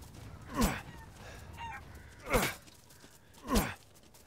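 Chickens in the video game Resident Evil Village give three separate squawking, clucking calls spaced about a second apart over a quiet background.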